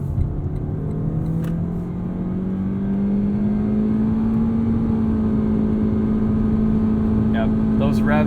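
A 2019 Lexus UX 200 F Sport with a CVT accelerates in sport mode onto a highway on-ramp, heard from inside the cabin. Its loud engine drone climbs in pitch, then holds at a steady high rev.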